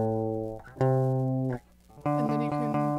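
An electric guitar plays a riff, a few sustained, distorted-sounding notes and chords played close and loud, with a brief pause between phrases.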